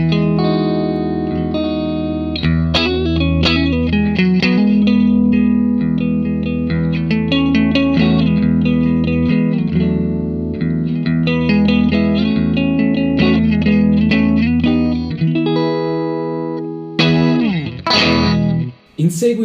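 A loud, distorted electric guitar plays dense chords and riffs through a tube amp and cabinet cranked to stage volume, with a thick crunchy tone that cuts off abruptly near the end.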